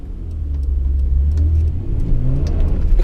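A V6 Vauxhall Omega engine revving from inside the car, a deep, steady low rumble that swells and eases with throttle, loud and continuous with no talking.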